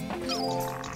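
A frog enemy in Pikmin lets out a short, close croaking call with a low, throaty, buzzing quality.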